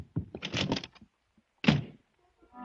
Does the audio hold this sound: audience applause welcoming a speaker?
no